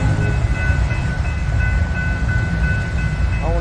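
A passing train, a loud steady rumble of rail cars with a faint tonal whine running through it, heard without any talk.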